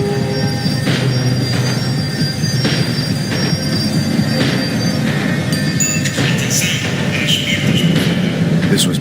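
Tram in the Max Payne 3 video game braking, with wheels squealing against the rails under a continuous rumbling roll and rhythmic clatter, loud and close throughout.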